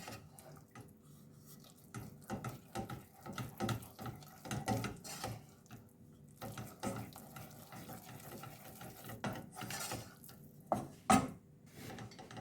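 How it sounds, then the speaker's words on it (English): Cheese sauce ingredients being mixed in a bowl for macaroni and cauliflower cheese, a steady wet stirring and scraping that comes and goes over several seconds, close by with no talking. "Carry on mixing."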